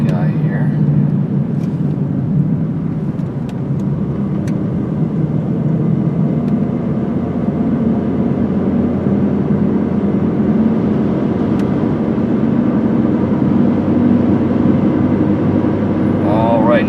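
A red 2005 Kia Spectra EX accelerating smoothly while driving makes a constant low engine and road drone from inside the cabin, with a voice talking over it.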